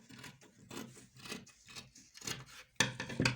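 Scissors cutting through ankara fabric, a series of close rhythmic snips and rasping cloth slices in short bursts, each louder toward the end, with no voices.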